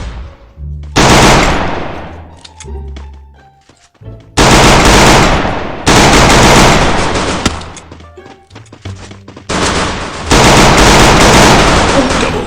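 Loud, close automatic gunfire in the mobile shooter Free Fire, delivered in four long sustained bursts separated by short pauses with faint clicks between them.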